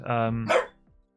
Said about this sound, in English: This is my dog.